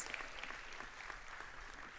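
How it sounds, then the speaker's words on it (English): Faint, distant applause from an audience at a school Wildcat induction ceremony, a steady low wash of clapping that continues evenly for about two seconds. "Let's give her another round of applause."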